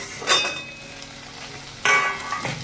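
Okra frying in a pan on a low gas flame gets stirred, giving a soft sizzle punctuated by two sharp scraping, clanking bursts of a utensil against the pan.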